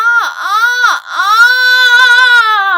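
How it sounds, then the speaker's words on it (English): A singer glides from chest voice into connected head voice, holding a bright, ringing tone with strong core; two quick swooping dips lead into a long sustained note with slight vibrato. "going from chest voice connected into head voice"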